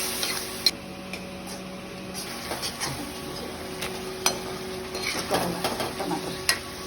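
Dalle chillies frying in a pan hiss softly and evenly, dotted with light clicks and taps from stirring, with no voices.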